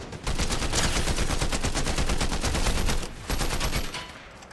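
Sustained rapid automatic gunfire in a video game shootout against a bot team, loud and continuous bursts with a brief pause before firing resumes and then tapers off.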